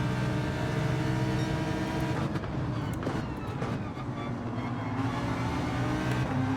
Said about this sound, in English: The G70 has insane acceleration.